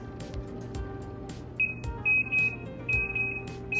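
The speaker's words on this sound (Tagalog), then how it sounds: "nag-beep na yung ating oven" An oven timer beeps after a chocolate banana cake finishes baking, a run of high electronic beeps in short bursts over a steady kitchen background hum.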